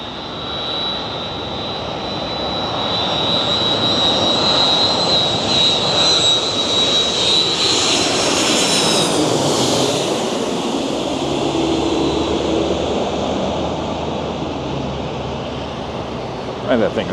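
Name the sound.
airplane jet engine at LAX airport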